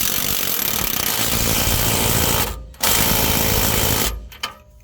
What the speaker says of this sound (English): grab your 21mm deep socket and torque this nut down to 85 foot-pounds